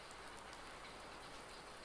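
Steady rain falls outdoors in a Polish countryside setting, a dense, even hiss of drops on surfaces running unbroken and fairly close throughout, with no voices.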